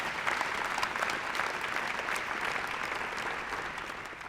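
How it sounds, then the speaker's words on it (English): Audience applause for award finalists at an evening journalism award ceremony, a steady, dense wash of many hands clapping that holds evenly throughout and fades slightly near the end. "Let's give the finalists once again a round of applause"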